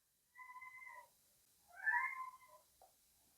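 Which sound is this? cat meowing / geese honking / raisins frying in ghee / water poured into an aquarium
cat meowing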